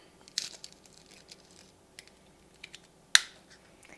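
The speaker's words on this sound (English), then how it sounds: "Click it in place," A roll of blotting paper snaps into a plastic paper holder, two sharp close clicks, one early and a louder one near the end, with faint small handling rustles between.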